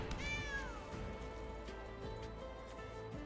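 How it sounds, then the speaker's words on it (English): A short cat mew sounds from MTG Arena when a cat card is played, a single rising-then-falling cry near the start, set over continuous game background music. "I love that any cat you play makes the mew sound, even if it's a frickin' snow leopard."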